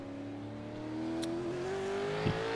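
V8 race car engine accelerating out of a corner in a racing video game, a steady droning note climbing gradually in pitch, fairly quiet, with a brief sharp burst near the end.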